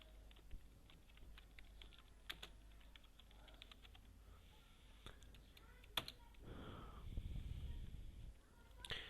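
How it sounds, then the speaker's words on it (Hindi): Close, quiet computer keyboard typing of a search query, a run of light irregular key clicks with a few sharper taps, followed by a brief soft rustle near the end. "google.com पे जाकर और हम लोग सर्च में जेक्वेरी डाउनलोड लिख देंगे"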